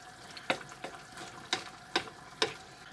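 Ground beef chili seasoned with white pepper is stirred in a pan: faint, soft sizzling broken by about five sharp scraping knocks of the spoon at irregular intervals.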